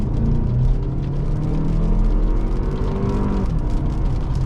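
A 2023 Toyota Highlander's high-revving inline-four drones steadily from inside the cabin, a dense, continuous engine hum with a slight pitch shift partway through and no talk over it.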